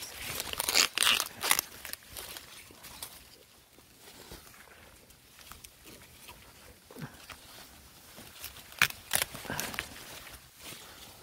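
Waxy corn ears are snapped and pulled off the stalks in a corn patch, with dry rustling, crinkling husks and crunchy tearing coming in irregular close bursts.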